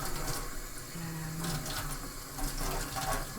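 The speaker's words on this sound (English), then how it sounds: "I'm going to give the valves a little bit of a rinse now with that same lukewarm water" Lukewarm water runs from a tap over the valves of a brass instrument as they are rinsed, making a continuous, close, even hiss and splash with no talking.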